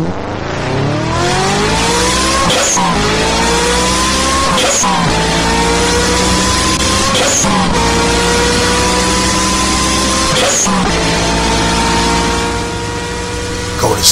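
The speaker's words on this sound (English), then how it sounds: "Car start." A car engine revs hard through repeated rising gear pulls, with tire squeal and skidding, as it accelerates away. The sound is loud, continuous and close for about fourteen seconds.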